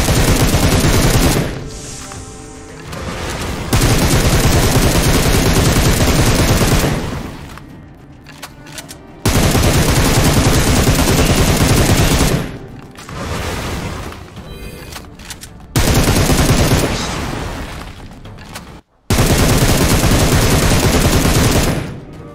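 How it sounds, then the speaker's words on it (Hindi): Loud PUBG Mobile gunfire, with bursts of automatic fire and heavy booming shots coming in several long blocks separated by brief lulls, close and dominant throughout. "यार पहली दफा है ऐसा, गोलियां निकलती हैं।"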